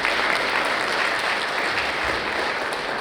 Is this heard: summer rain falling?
no